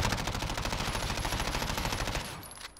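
Sustained automatic gunfire from a video game during a recoil test, a dense rapid burst of shots that runs continuously for over two seconds before cutting off, with no talking.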